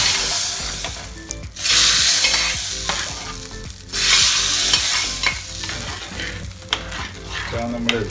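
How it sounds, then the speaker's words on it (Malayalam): Curry leaves sizzle and crackle loudly in hot oil in a frying pan while a spoon stirs and scrapes, making a continuous hiss with bursts of stirring for a dal pumpkin curry. "അതിലേക്ക് കുറച്ച് കരിവേപ്പില ചേർത്ത് ഇളച്ചതിന് ശേഷം നേരെ"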